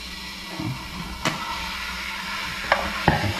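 Mushroom sauce bubbles and hisses in a pan after soy paste goes in, with a steady low sizzle and several sharp scrapes and taps from a spoon stirring it.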